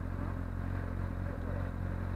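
Motorcycle engine on Avenida Desembargador Moreira in Fortaleza: a close, steady low throbbing drone with a rough clatter, holding an even loudness throughout without a clear rise in pitch.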